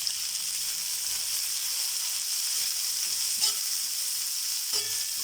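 Chopped onion and green chili fry in hot oil on an iron tawa, giving a steady, dense hiss with a couple of faint stirring scrapes and no voices.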